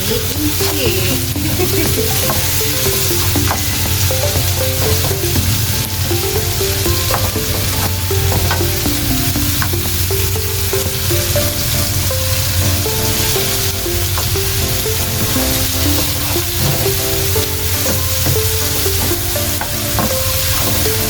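Tomatoes sauté in a pan with a loud, dense, continuous sizzle and stirring scrape, while a faint melodic tune plays in the background.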